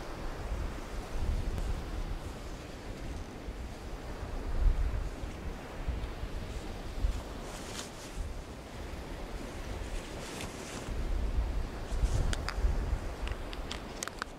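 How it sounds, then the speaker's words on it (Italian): Strong wind gusts roar and buffet the microphone in a steady rumbling rush, swelling louder at times, with no voices. "Si è alzato un vento, una cosa assurda"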